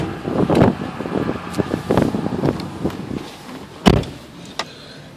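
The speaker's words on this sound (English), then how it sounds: "The windows roll down." Power windows on a worn 1999 Ford F150 pickup truck rolling down, a soft motor whir with faint clicks and knocks, quiet and close with no talk.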